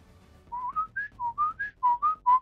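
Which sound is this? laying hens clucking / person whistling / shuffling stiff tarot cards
person whistling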